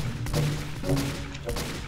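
Gunfire in the Team Fortress 2 video game, a dense stream of rapid shots running through the whole moment at steady loudness, with no talk over it.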